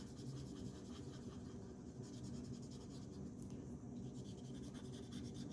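An alcohol marker's brush nib strokes across paper, giving a soft, steady, continuous scratchy rasp that stays faint and close throughout, with no voices.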